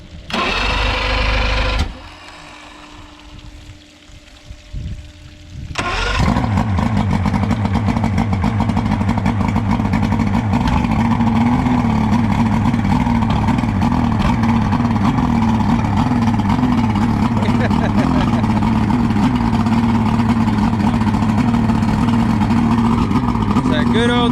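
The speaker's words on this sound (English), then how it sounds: "It's that good old two-stroke." A 1998 Johnson V6 Venom two-stroke outboard cranks after a brief run and pause, then catches and holds a loud, steady, buzzy idle close by for the rest of the clip.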